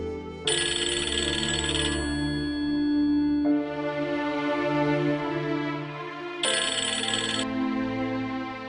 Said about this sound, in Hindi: अहमद मेरा फोन क्यों नहीं उठा रहा?